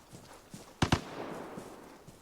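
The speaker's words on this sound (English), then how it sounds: "As gunshots go off" Two sharp gunshots ring out in quick succession in the shooter game Vigor, loud and close together over a quiet, faintly rustling background.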